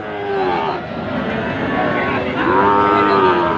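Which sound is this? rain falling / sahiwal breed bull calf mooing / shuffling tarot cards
sahiwal breed bull calf mooing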